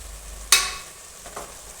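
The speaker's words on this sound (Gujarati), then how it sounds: "હવે આપણે તેને બરાબર મિક્સ કરીશું" Tomatoes with turmeric, coriander-cumin powder and red chilli being mixed in a cooking pan for an aloo palak curry: one sharp scraping stir followed by a softer second stroke over a faint sizzle.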